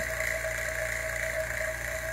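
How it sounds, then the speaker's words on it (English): Vacuum pump running on an air conditioner line set, a steady continuous mechanical drone with a constant hum and whine, unchanging throughout and close by. "The vacuum pump is on."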